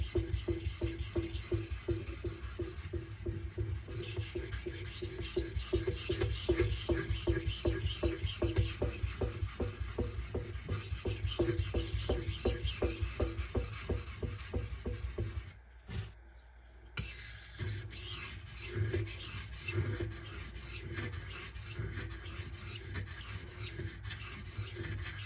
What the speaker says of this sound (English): I'm gonna do some heavy grinding here, which this 400 stone is absolutely capable of doing.